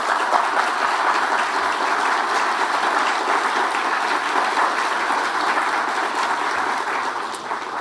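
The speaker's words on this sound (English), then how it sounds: "Can we please give them a round of applause?" A large audience at a housing policy summit applauds steadily and loudly for the speakers and sponsors, a dense, even roar of clapping that holds for several seconds before easing slightly at the end.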